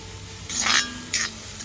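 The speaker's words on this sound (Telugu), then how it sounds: "దీంట్లో ఏం ఆయిల్ వేసుకొని అవసరం లేదు, ఉంటే ఒట్టిదే బాగా ఫ్రై చేసుకోవాలి." Dried shrimp shells are dry-roasted without oil in a pan and stirred, producing two short scraping, rustling sweeps over a steady low background, close and moderately loud.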